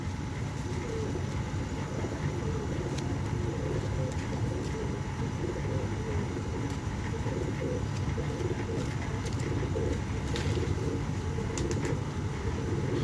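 Breeder pigeons cooing in soft, low, repeated calls over a steady, dense background hum, with occasional faint chirps.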